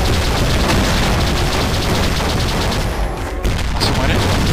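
Blasts and rapid gunfire roar loud and continuous in the shooter Brutal Doom II, a dense barrage of booming explosions and rattling shots with a brief dip before another burst.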